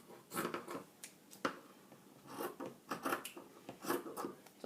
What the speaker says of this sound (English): I'm just cutting off the back side and the batting that is sticking out.